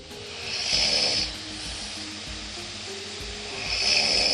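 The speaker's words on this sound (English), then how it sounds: "Here's a night where I snored a lot" Heavy snoring recorded overnight by a sleep-tracking phone app: two loud, rasping snore breaths at the start and end, separated by a quieter stretch of low, rumbling breathing with no talking.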